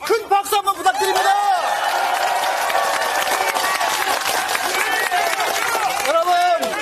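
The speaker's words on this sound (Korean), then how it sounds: "큰 박수 한번 부탁드립니다" A large outdoor crowd at a political rally on a historic street in Gunsan applauds Lee Jae-myung: loud, sustained clapping and cheering that swells quickly and holds steady, with a voice amplified over a loudspeaker at the start and end.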